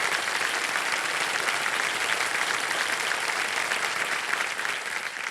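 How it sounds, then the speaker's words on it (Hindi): Studio audience applause on the set of the Hindi quiz show Kaun Banega Crorepati, a dense, steady roar of many hands clapping that stays loud and even throughout, with no talk over it. "जोरदार तालियां बज जाए"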